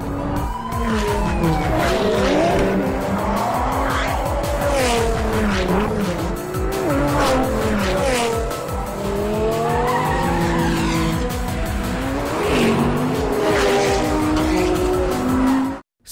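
Street racing cars weave through heavy road traffic in a film scene, with tires squealing and skidding in long sliding wails over loud, close engine roar and revving that holds continuously for about sixteen seconds.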